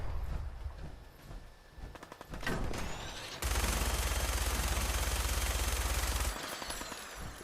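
Minigun from Fallout 4 spinning up and then firing a long, continuous, rapid buzzing burst for about three seconds, loud and close, before cutting off, with scattered shots and clatter leading in.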